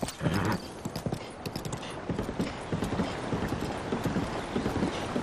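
Horse hooves clip-clopping in the video game The Legend of Zelda: Breath of the Wild, a quick, steady galloping rhythm of close, crisp hoofbeats running throughout.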